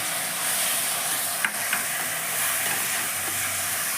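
Grated tomato frying in a pan over lowered gas heat, a steady broad sizzle holding evenly throughout, with a couple of faint utensil clicks partway through and no talk.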